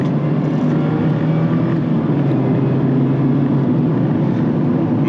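A 2024 Mazda MX-5 Miata engine drones steadily and loudly from inside the car while driving, pulling at higher RPMs with a constant rumbling tone and no pauses.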